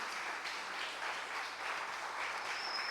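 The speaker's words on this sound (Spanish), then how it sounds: "del aplauso fuerte al Rey bendito, de la gloria, por favor, con toda su fuerza" Congregation applauding during a church devotional service, a steady, dense wash of clapping held evenly throughout, fairly faint and distant, with no voices over it.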